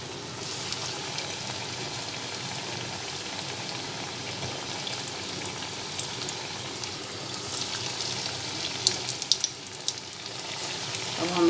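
Singhara flour cutlets frying in hot oil in a kadhai over low gas, a steady soft sizzle with faint crackles and pops, continuous throughout.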